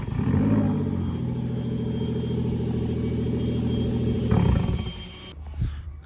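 A crash-damaged Toyota Crown with a broken rear control arm drives along with a steady, heavy engine drone and rumbling road noise, which rises briefly and then drops away near the end.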